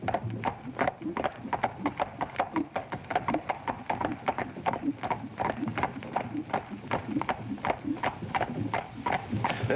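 Horses' hooves clip-clop steadily on a street in a 1953 film, a dense run of rapid overlapping hoofbeats from several horses with faint voices and bustle beneath, on a muffled older soundtrack.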